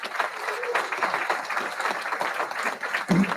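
A banquet crowd at a golf hall of fame awards dinner at the Country Club of Jackson applauds the staff, a steady wash of many hands clapping with murmured voices mixed in and a brief louder swell near the end.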